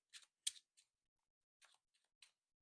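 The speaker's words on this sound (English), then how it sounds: "let's just do a little bit more of a quick shuffle here to get this all set up" Quick shuffle of a Marvel Champions card deck during tabletop play setup, heard as a few short, crisp riffling bursts with brief gaps between them, close and fairly quiet with no talking.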